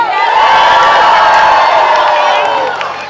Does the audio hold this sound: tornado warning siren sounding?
no